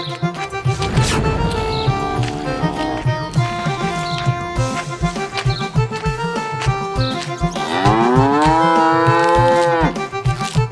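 A tethered buffalo in a stable full of buffaloes moos in long, drawn-out calls with a wavering, bending pitch, loud and close, with one call near the start and a louder one toward the end over a busy background.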